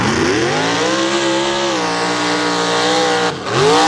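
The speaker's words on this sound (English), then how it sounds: "Up next, Dan Graham out of Delmont, Pennsylvania, in a very, very powerful Chevrolet." A very powerful Chevrolet mud racing truck at a Bloomsburg, Pennsylvania mud race roars loudly and continuously, its engine note sweeping and shifting pitch, with a brief dip near the end before it surges again.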